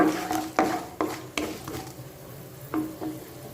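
Chana dal stirs in a pan as it fries for rava upma, with several sharp scrapes and clinks of a spoon against the pan over a faint sizzle, spaced irregularly.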